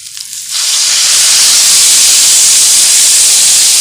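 Water poured into a hot pan while making papdi chaat with tomato and potato erupts into a loud, steady sizzling hiss that swells after a brief quiet start and holds to the end.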